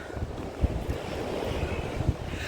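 Sea waves wash against the shore at Odesa on a windy November day, with steady rushing surf, wind buffeting the microphone, and a few low thumps of breaking water.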